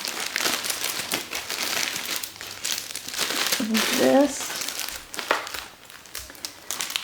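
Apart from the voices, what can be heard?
Halloween tissue paper being crinkled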